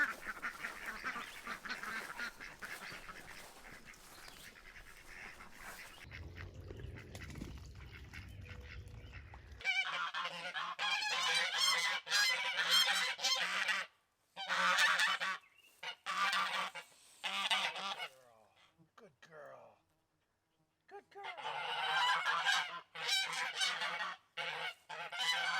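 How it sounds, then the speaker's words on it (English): Geese honk repeatedly in noisy overlapping bursts, some close and loud, with brief pauses between calls. "Training the pup to the ducks and the geese"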